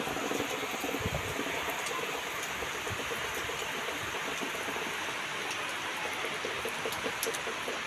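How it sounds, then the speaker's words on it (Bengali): Steady morning rain falls in a broadband hiss with scattered drop patter, moderately faint and continuous, with no talking. "ভালোই বৃষ্টিটা হচ্ছে সকালবেলা।"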